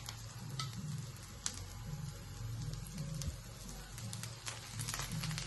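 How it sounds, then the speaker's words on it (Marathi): Fasting-style dhirade pancakes roast in a little oil on a pan, producing a soft, continuous sizzle with faint crackles and occasional spatula taps under a low background hum. "थोडस तेल टाकून परत आपण भाजून घेऊयात"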